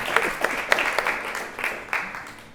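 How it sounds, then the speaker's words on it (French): An audience at a church service applauds, a brief burst of many hands clapping with a few sharper individual claps, dying away toward the end, heard at moderate distance. "On peut l'applaudir."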